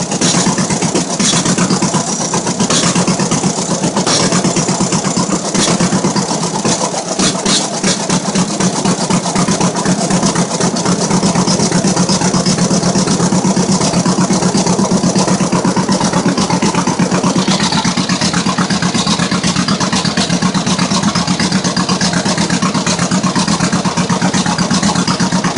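A 1950 John Deere B tractor engine idles after a cold start, with a loud, steady close-up chugging and rumble that runs unbroken throughout and no talking.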